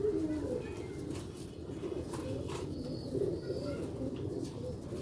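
Sialkoti Ali wala pigeons cooing at a breeder's loft, low soft repeated coos close by, with faint chirps and a voice talking over them.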